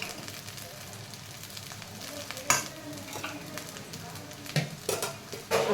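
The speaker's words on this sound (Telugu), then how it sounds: "మీరు ప్రిపేర్ చేసుకున్న రైస్ని ఇందులో కలిపేసేసి" Cooked rice is stirred into veg fried rice in a hot pan over a gas flame, with a constant sizzle and irregular scraping of the spatula, louder toward the end.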